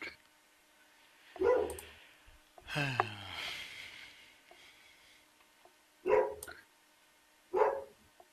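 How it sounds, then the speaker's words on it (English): A dog barks a few times at a distance, short sharp woofs spaced apart with quiet gaps between them, plus a breathy snort-like noise partway through. "that damn dog, every time"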